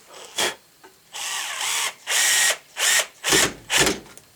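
Power drill driving small screws into a wooden food pantry: six short, loud whirring bursts with brief gaps between them, close by and with no talk.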